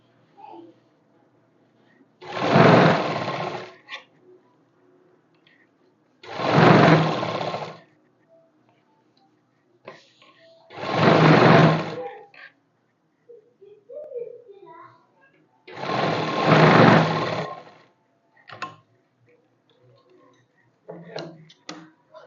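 A sewing machine stitches a folded seam on fabric in four separate bursts of about a second each, with quiet pauses between them and faint movement sounds and a little voice in the gaps.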